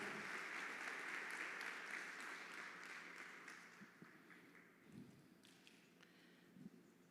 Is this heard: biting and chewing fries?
no